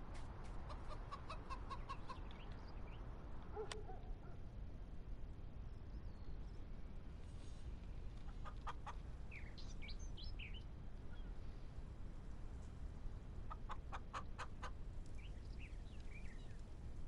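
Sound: chickens clucking in video game Big Fields Farm

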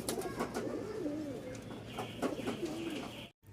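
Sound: pigeons cooing

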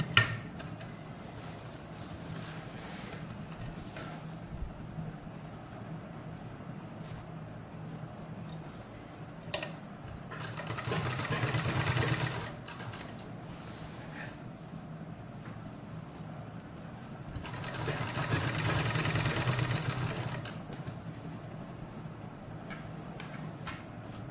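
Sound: sewing machine stitching a zip onto a salwar pocket

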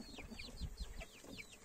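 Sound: chicken clucking

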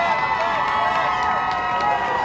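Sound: crowd applauding and cheering

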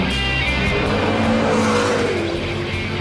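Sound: McLaren MP4-12C sports car engine, turbo and downshifts

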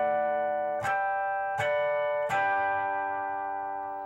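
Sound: electric guitar natural harmonics

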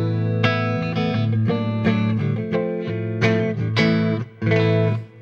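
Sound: electric guitar played through amplifier clean channel

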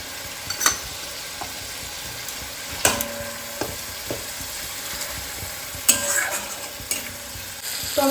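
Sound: tomato and spices frying in oil

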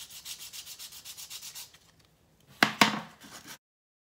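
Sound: hand sanding the top of a bangle keychain

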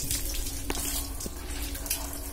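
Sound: water poured into a bike tank

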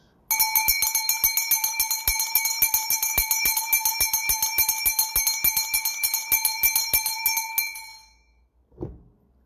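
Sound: bell being rung

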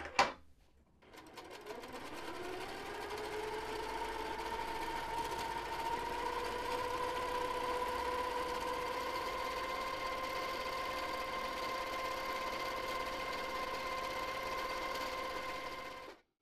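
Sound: sewing machine quilting a block

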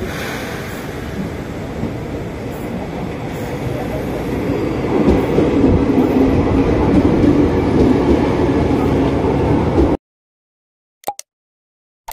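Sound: KRL commuter train TM 6116 entering a station

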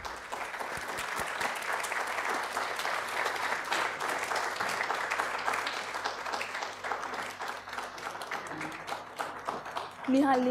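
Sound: audience applause at a lamp-lighting inauguration

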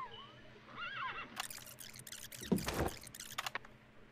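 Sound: horse neighing in the video game Metal Gear Solid: Peace Walker

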